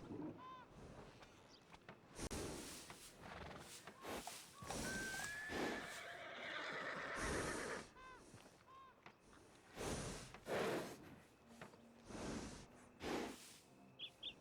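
A horse in Red Dead Redemption 2 whinnies and snorts amid scattered game sounds, with a long neigh in the middle and short bursts around it, fairly close and moderately loud.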